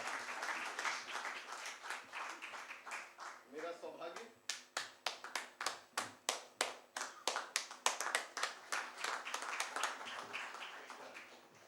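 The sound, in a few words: audience applause at a book launch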